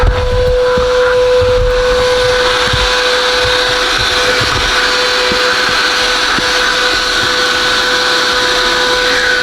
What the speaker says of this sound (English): This vacuum ain't sucking it up good.